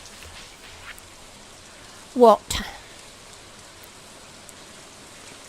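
Steady soft rain patter from the farming game Stardew Valley, a faint continuous hiss throughout with a brief voice and a short blip of other game sound in the middle.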